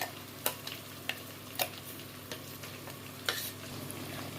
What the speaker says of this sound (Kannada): ರುಬ್ಬಿದಂಥ ಮಸಾಲೆನೆಲ್ಲ ಇದಕ್ಕೆ ಹಾಕ್ಕೊಂಡು ಚೆನ್ನಾಗಿ ಮಿಕ್ಸ್ ಮಾಡ್ಕೊಳ್ಳೋಣ